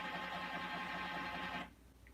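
An Epson P600 inkjet printer hums and whirs through a head cleaning cycle, a steady mechanical drone that stops abruptly, leaving a faint quiet room.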